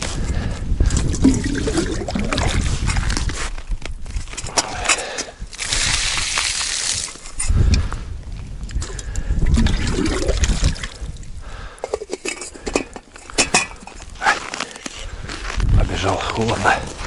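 Water poured for tea outdoors on a cold ice-fishing trip, a trickling, splashing flow heard up close amid rustling and handling noise, with occasional wind-like hiss.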